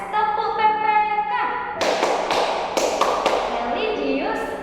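Children chant and clap in rhythm during a classroom PPK clapping routine, sharp claps cutting through layered young voices at steady, lively volume.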